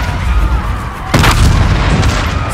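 Steady battle rumble with a single loud, sharp boom about halfway through, like a big gun firing nearby, as artillery fires on a fleet in Call of Duty: Infinite Warfare.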